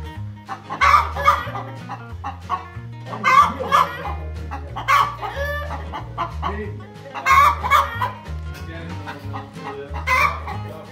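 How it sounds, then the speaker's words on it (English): A farmyard chicken on a brewery farm clucks in repeated bursts, loud and close, over a low, steady, rhythmic background. "what's the chicken doing?"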